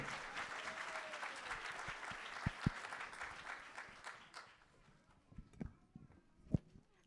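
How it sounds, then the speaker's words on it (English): Applause for a first-grade class at a school celebration, a wash of clapping that fades out over several seconds, followed by scattered knocks, thumps and faint movement in a quieter room. "I think they deserve another really big round of applause."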